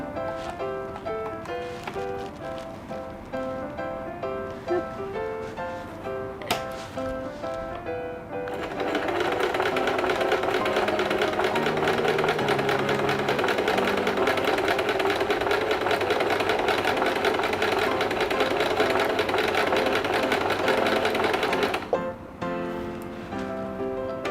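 A sewing machine stitches fabric after its bobbin thread tension is adjusted, first in short runs with clicks, then in a long steady whirring run of rapid stitching, loud and close.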